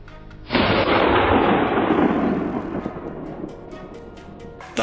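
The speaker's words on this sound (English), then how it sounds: "gunshots immediately rang out" A single loud hunting rifle gunshot cracks and booms in snowy country during a wild boar hunt, its echo rolling away for a few seconds before fading into quiet outdoor ambience.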